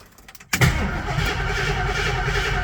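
A 1968 Mercury Cougar that has sat for three weeks cranks briefly, then catches and settles into a loud, steady idle close by.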